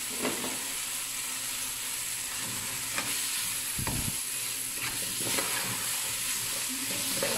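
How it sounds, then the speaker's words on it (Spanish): A rice-with-shrimp base sautéing in butter gives a soft, steady sizzle with occasional spoon scrapes and light pops, fairly quiet and close, with no talking. "y estamos sofriendo nuestra base"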